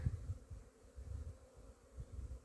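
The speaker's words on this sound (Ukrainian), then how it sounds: "Дуже гарно бджолки літають." Honey bees fly around the hives at an apiary on their first cleansing flight of the year in February, making a steady, close, low droning buzz that swells and fades without pause.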